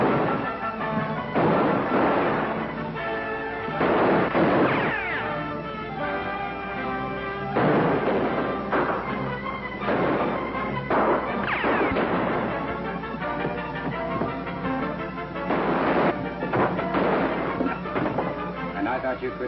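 Gunfire in a shootout from a 1945 western film: repeated heavy shots and crashing bursts recur through the scene, with voices and film sound running steadily underneath.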